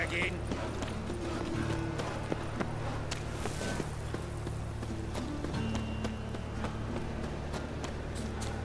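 Horse hooves clip-clopping steadily in The Witcher 3, in a brisk, continuous rhythm over low ambient game sound, with a voice speaking partway through.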